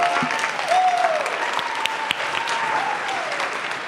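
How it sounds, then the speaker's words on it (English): Steady applause from a crowd at a high school event fills the room, a dense continuous clapping at moderate loudness with a faint voice calling out over it. "Let's give a big round of applause"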